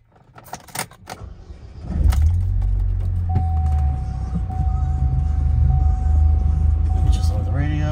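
Keys jingle and clatter briefly, then the engine of a 2009 Saturn Sky Redline turns over and settles into a steady low idle that continues to the end.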